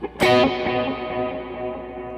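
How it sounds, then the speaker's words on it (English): A distorted electric guitar chord strikes and rings out, trailed by wavering, repeating echoes from a modulated Memory Man-style analog delay that slowly fade. "I think it's a Memory Man style delay with a little bit of modulation on it"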